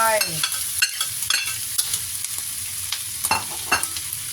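Rice being stir-fried in a hot pan for curry sauce fried rice, with steady frying sizzle and repeated scraping strokes of a spatula against the pan, close and alone.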